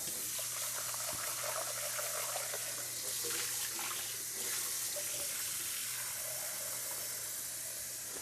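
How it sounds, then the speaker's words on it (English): Water from a faucet running into a big measuring cup for soup, a steady close rush of flowing water with a faint background hum, continuous throughout without speech. "And I'm going to put 10 cups of water."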